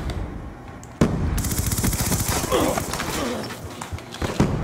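Gunfire in the video game Black Ops 2, with dense rapid bursts of shots at loud, close range and a voice heard faintly under them.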